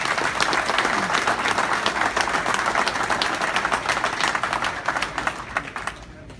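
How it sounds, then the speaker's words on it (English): A crowd at a bowling alley gives the staff a long round of applause, dense clapping that runs unbroken for about six seconds before thinning out and fading near the end. "let's give them guys a great round of applause"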